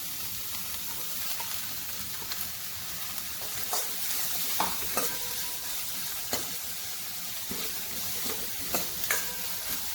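Chopped capsicum stir-fries over a high flame for a crispy corn snack, a constant hiss of sizzling broken by intermittent clacks and scrapes of the stirring spoon.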